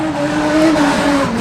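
Street stock race cars roar at full throttle on the Redline Raceway oval as a heat finishes, a sustained loud engine drone with shifting pitch and faint tire noise, no voices.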